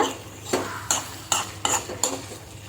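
Masala being stirred into frying prawns in a pan for prawn biryani: about five distinct, sharp scraping strokes of a utensil against the pan in an uneven rhythm, heard up close over a soft low sizzle, without talk.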